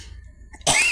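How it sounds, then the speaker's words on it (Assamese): A single sharp, loud cough bursts out near the end, following a stretch of quiet kitchen background where oil is heating in a wok. "মোৰ বিশেষ কাহ হৈ আছে"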